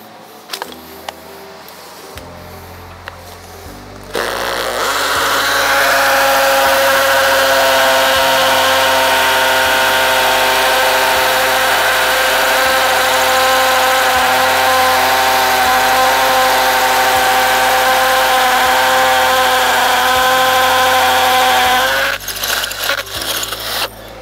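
A power drill runs loudly and steadily for nearly twenty seconds drilling into a wall, its motor whine holding a constant pitch before cutting off; quieter handling noises come before and after.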